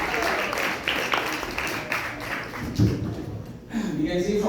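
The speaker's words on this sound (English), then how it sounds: "Let's give a big round of applause." A round of applause from the crowd at a Vyasa Puja celebration in an ISKCON temple in Brampton: steady clapping for a few seconds, then a voice speaks over the fading applause.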